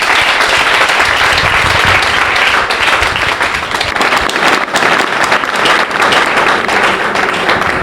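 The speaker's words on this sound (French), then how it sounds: "cette transition accompagnée bien sûr des acclamations du public" A studio audience at a comedy show breaks into sustained, loud applause and cheering that fills the room steadily from start to finish.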